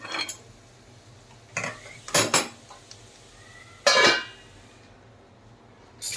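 Metal clatters and clanks from a pan on a home stove while bhakhri flatbread cooks: a few sharp, separate bursts, the lid set over the pan, with quiet gaps between and no talk.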